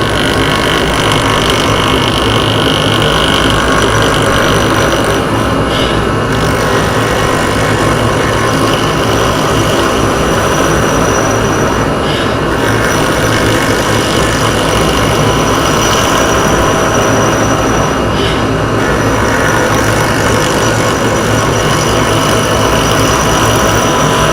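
A wood lathe spinning at about 3,000 RPM while turning Liquid Diamonds resin, a loud constant motor roar with a steady whirring hum throughout, no breaks and no talking.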